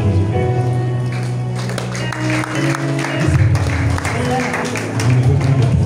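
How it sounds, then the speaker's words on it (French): A church congregation applauds and cheers in praise of Jesus during a worship service. Steady, loud clapping and crowd noise run throughout, with sustained voices or music underneath. "Acclame Jésus."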